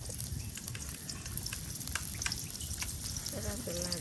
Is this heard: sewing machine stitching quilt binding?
no